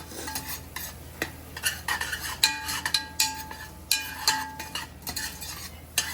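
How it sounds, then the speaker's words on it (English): A utensil stirs cabbage and salt in a pan, scraping and clinking repeatedly in an uneven rhythm over a low background, close and fairly quiet. "Give this a good old stir."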